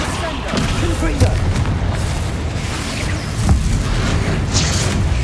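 A Confringo blasting spell from Hogwarts Legacy erupts in heavy booming blasts, a couple of louder thumps rising out of a dense, rumbling battle din that fills the whole span.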